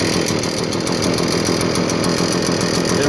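An Echo leaf blower's two-stroke engine runs steadily at high revs after being heavily choked, a loud, continuous buzzing drone with no pauses.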